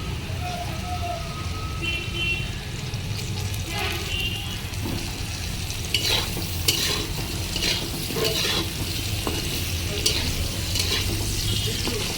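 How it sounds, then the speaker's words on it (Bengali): Papaya and potato pieces fry in a pan over medium gas heat, a continuous loud sizzle with stirring scrapes and occasional sharper crackles, close up and without talk. "আমি আলু পেঁপেটাকে ভালো করে ভেজে নিয়েছি"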